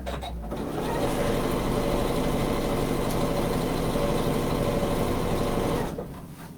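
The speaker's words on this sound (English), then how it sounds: "Okay, so I'm just doing a top stitch." A sewing machine runs a long, steady stretch of top stitching along a tote bag. The continuous motor hum stays close and fairly loud, then stops near the end.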